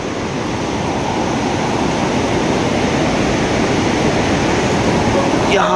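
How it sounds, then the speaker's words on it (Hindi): Steady, loud broadband rush of a waterfall near a gurudwara in forested Mechuka, continuous and close without pause. "यहाँ पे झरना आप देख सकते हो।"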